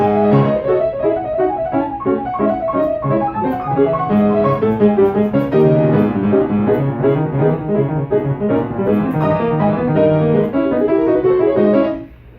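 Both hands of a Chopin étude together on solo piano: a busy, rapid texture of melody over rolling bass, loud and close, running continuously before cutting off at the end.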